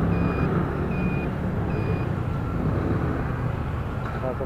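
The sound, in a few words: street traffic with truck reversing beeps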